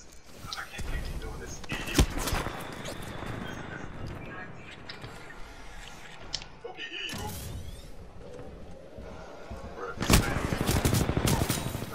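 Bursts of Titanfall 2 gunfire, the player chasing the R91 rifle, crack out in loud clustered shots near 2 and 10 seconds amid busy game noise, with talk running underneath.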